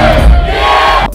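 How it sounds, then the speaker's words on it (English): A concert crowd at a rap show yelling together in a loud, dense roar that holds for about a second before cutting off abruptly. "he can still easily sell out shows where the entire crowd can be heard yelling out"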